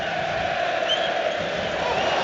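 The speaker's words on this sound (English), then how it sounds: "Luke Shaw's getting a big applause from the Manchester United fans he's just playing in front of" Manchester United fans applauding Luke Shaw during a Premier League match away at Southampton, a dense, steady wash of crowd noise and clapping heard from a distance, unbroken from start to finish.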